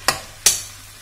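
A spoon stirs ivy gourd curry frying in a pan, giving two quick, close scraping strokes about a third of a second apart over a faint sizzle.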